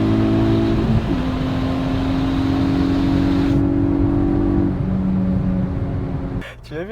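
A Hyundai i20N engine drones loudly at steady revs with a rumbling exhaust note, the pitch shifting slightly partway through before the sound drops away at the end.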